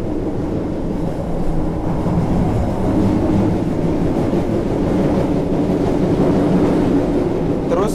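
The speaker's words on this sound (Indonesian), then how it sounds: "kereta tuh melintas pelahan ya." A train rumbles slowly and steadily through a station, a loud continuous low roar with faint rhythmic wheel clatter and no talking.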